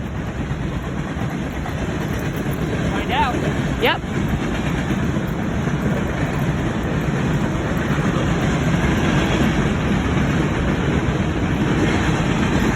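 Freight train rolls past at the City RV Park and Campground in Cambridge, Nebraska, a steady broad rumble and rush of railcars throughout, with a couple of short squeals and brief talk early on.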